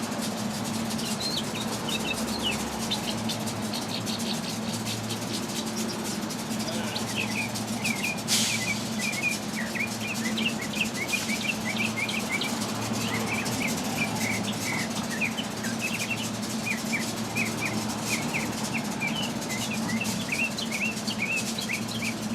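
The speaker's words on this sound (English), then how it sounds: "There's a bird in the tree." Outdoors, a bird calls from a tree with repeated short chirps and twittering phrases, moderately near, over a constant low background hum with a faint insect-like buzz.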